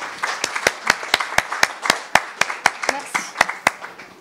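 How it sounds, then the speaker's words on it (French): Audience applauding at the close of a public lecture on water in the city, a sparse round of distinct sharp claps in a loose rhythm, with speech running over it. "on applaudit aussi le public"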